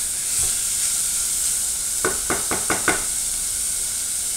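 Onion sautéing in a pan while Marathi-style murmura poha is cooked: a steady hiss of sizzling runs throughout, with a short series of about five stirring knocks of a spatula against the pan in the middle, close by.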